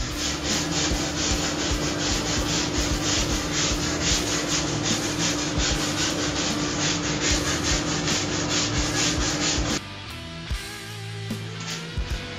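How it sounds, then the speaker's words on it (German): Continuous rough scraping of a stiff brass wire brush scrubbing back and forth across a wooden tray, loud and close, stopping near the end. "Und jetzt nochmal mit einer Drahtbürste das Ganze ausgebürstet."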